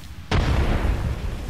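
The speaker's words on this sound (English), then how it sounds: "Thermite grenade out." A thermite grenade goes off in the video game Apex Legends, one sudden loud boom followed by a deep rumbling roar that holds for over a second.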